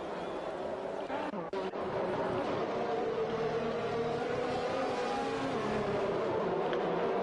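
Race cars in the F1 2021 video game at the Japanese GP under a virtual safety car, engines droning and whining steadily beneath continuous commentary-style talking.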